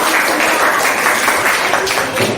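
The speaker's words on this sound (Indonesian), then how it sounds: "Tepuk tangan buat teman-teman." Loud, close applause from an audience for a presenting group at a school teachers' session, many hands clapping in a dense continuous burst.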